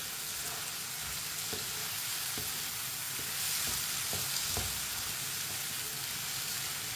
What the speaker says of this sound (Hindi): अब इसे 2-3 मिनट के लिए भून लेंगे।